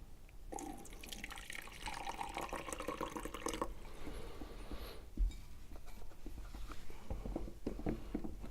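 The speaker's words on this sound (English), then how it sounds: "I'm going to add water again." Water poured into a MyJo single-cup coffee maker's reservoir, a soft trickling stream for several seconds, then quieter splashes and a small knock, faint and close, with no talk.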